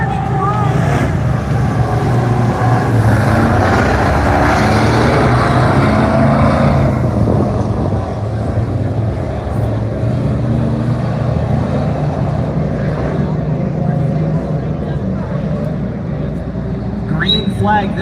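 Stock cars roar around the oval during a heat race at Buxton Speedway, a loud, continuous engine drone with wind buffeting the microphone and an announcer talking over it throughout.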